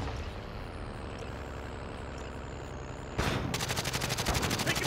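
Call of Duty: Modern Warfare firefight: distant rumbling shots at first, then a sudden close burst of rapid automatic gunfire rattling steadily to the end, no talk.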